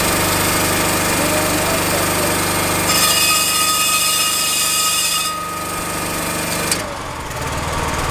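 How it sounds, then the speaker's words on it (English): A core sampling drill rig motor drones loudly and steadily close by with a high whine, then changes pitch partway and settles into a lower running hum. "Switch on my drill rig."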